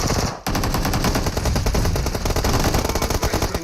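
Rapid automatic gunfire rattles in dense bursts during a competitive video game scrim, loud and continuous after a brief opening pause, with no talk over it.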